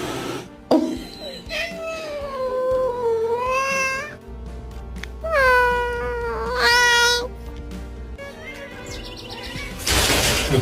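A cat lets out several long, wavering meows that rise and fall, one after another, at close range, with short noisy bursts at the start and end.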